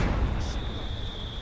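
A ZiS field gun fires in a wartime strategy game, a deep sustained boom with a long rumbling tail under a steady high tone, loud and close.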